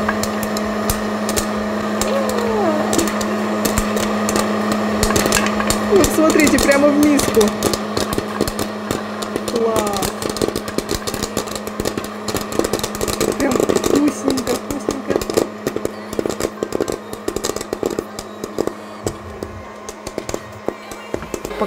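A continuous mechanical whirring drone from a running popcorn maker, with rattling and popping bursts over it, while a person talks close by in Russian.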